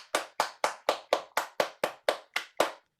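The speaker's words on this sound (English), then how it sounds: "Round of applause for Jennifer." A single person claps about ten times in a steady, even rhythm, close and crisp with short gaps between claps, after a group sharing session.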